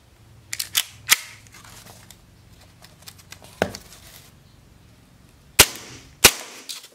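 WE M9A1 gas BB pistol test-fired into a box: a few scattered soft shots early, then two sharp, loud cracks close together near the end, with quiet room noise between.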